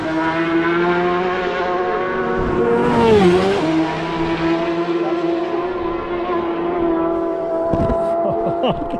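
Racing motorcycles at the Isle of Man TT scream past, a loud sustained engine whine with layered harmonics that dips in pitch as a bike passes, heard over a broadcast feed while people talk.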